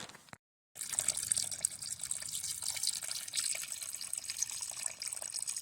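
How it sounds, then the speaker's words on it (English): Water from a pipe spring on the Appalachian Trail runs in a steady, close splashing stream. It continues without a break after a brief moment of silence near the start. "to get to this pipe spring. Hope it's flowing good"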